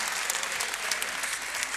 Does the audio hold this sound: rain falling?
no